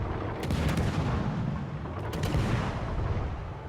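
Ship guns boom continuously in the naval battle game World of Warships Legends, a dense, loud roar of heavy cannon fire and rumbling blasts with sharp cracks near the start and middle, no voices.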